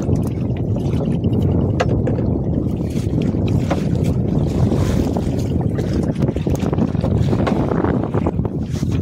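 Wind buffets a fishing boat rocking at sea while fishing for pala in the monsoon season, a dense, unbroken roar of gusts and churning water that stays loud throughout, with no voices.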